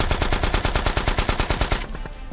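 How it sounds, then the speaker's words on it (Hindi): Rapid bursts of automatic gunfire in a video game, loud and close, firing in a steady rhythmic stream for about two seconds before tapering off, with no talking. "अरे बंदूक की गोली कहाँ से आ रही है?"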